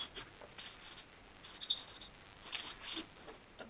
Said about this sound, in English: There's a nice bird song there in the background.